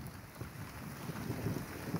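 Light rain with cold wind blowing under a cloud-covered sky in Kotda block, a soft, low rushing with faint gusty rumble, quiet and continuous.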